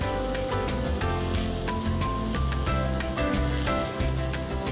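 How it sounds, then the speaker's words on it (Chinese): A US beef top blade steak sizzles on a hot iron griddle, a steady, loud frying hiss that runs for the whole stretch over tuneful background music. "牛排在炙热的铁盘上煎得滋滋作响"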